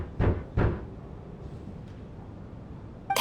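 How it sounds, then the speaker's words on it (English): Two heavy knocks on a wooden door in Genshin Impact, close and distinct about a third of a second apart, then a quiet stretch of low room ambience with a brief click at the end. "Or was that a knock at the door?"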